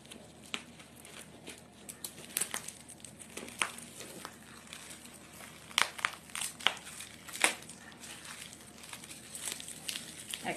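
An online order package is cut open and its plastic wrapping handled, giving faint, close crinkling and crackling with scattered sharp snips and rustles in an irregular rhythm.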